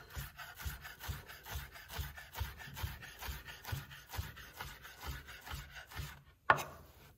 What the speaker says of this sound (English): Then the ham, I make in cubes like this.